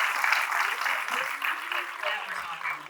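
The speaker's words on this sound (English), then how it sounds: "That deserves a bigger clap than that." An audience claps briefly and fairly loudly, a dense crowd patter, while a host's voice keeps speaking over it.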